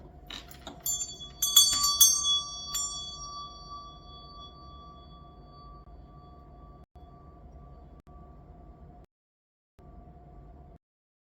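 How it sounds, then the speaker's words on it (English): A meditation bell struck once near the start, ringing with bright metallic partials that decay over a couple of seconds, then a low steady tone sustains alone at moderate loudness. "I'm going to ring my meditation bell"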